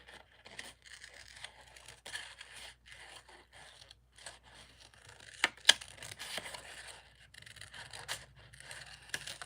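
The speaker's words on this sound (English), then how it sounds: "I'm trying to move my designer paper more than I move those scissors." Scissors fussy-cut designer paper for a handmade card, giving a close, quiet run of short snipping and rasping cuts with brief pauses, the paper rustling and scraping between strokes and one sharper snip in the middle.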